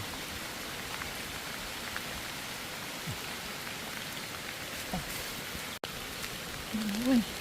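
Steady rain falls outdoors during mushroom picking in a forest, a soft, even patter and hiss throughout, with a faint voice briefly audible near the end.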